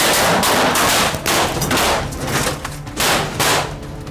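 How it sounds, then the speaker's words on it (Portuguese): Rapid gunfire in a filmed scene, with many shots cracking in dense, overlapping bursts that continue without a break, loud and harsh throughout and with no talk. "Olha só a quantidade de tiro."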